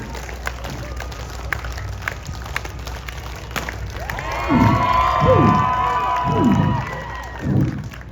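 A crowd at a stunt show in Grande Prairie, Alberta bursts into loud cheering and shouting, with excited children's voices rising in waves over background chatter and some clapping.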